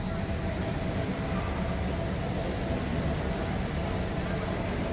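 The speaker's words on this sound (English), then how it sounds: "This is definitely an active train." An active passenger train at Hua Lamphong station in Bangkok gives off a steady, broad rumbling roar. It stays constant throughout without breaks, with faint background voices in the station.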